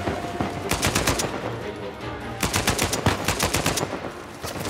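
Automatic weapon fire in the video game Uncharted 4: two loud, rapid bursts of gunshots close by, separated by a short pause, with no talking.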